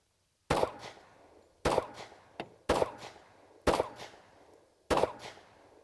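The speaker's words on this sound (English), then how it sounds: "I'm going to try and plink off some targets here and see exactly how we make this happen" Pistol shots plinking targets on the pistol range at Hyatt Farms Shooting Complex, five sharp, loud reports spaced about a second apart, each ringing out briefly, with a fainter metallic ping from a struck target between the second and third shots.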